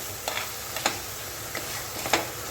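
A tamarind and wood apple mixture frying in oil for a wood apple thokku, stirred with a few soft scraping strokes over a faint, quiet sizzle, no voices.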